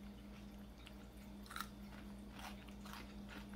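Fried corn snacks crunch between the teeth in a few soft, close bites and chews, faint against a low steady hum.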